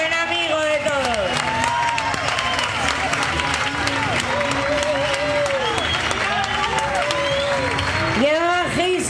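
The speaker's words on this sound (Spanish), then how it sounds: "Y un aplauso muy fuerte, por favor" A theatre audience applauds loudly and steadily throughout, with voices, shouts and cheers rising over the dense clapping, during a staging of Jesus Christ Superstar.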